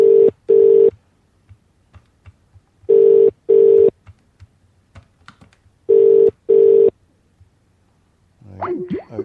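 A landline telephone rings out in repeated double-burst tones, three pairs at steady intervals, loud and near, with faint clicks between and a garbled voice starting at the end.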